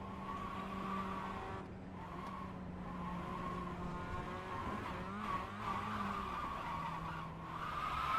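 A GT3 race car in a sim racing game at Le Mans slides into oversteer, its engine droning steadily while a sustained tire skid whines over it for several seconds, with no voice present.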